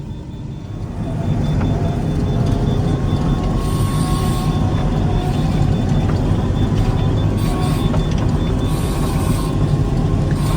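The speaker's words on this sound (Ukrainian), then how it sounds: "як же ж не показати роботу комбайна в полі" A combine harvester works a winter corn field, giving a loud, steady mechanical rumble with rattling and clanking that holds without a break after a brief rise at the start.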